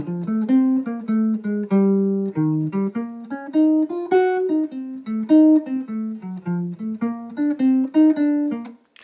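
A guitar lick in fifth position, played as a run of clean, plucked single notes in a steady rhythm, close and clear with no talking, ending on a final held note.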